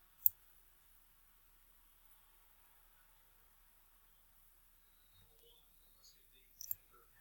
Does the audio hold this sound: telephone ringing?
no